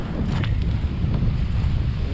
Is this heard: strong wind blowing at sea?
yes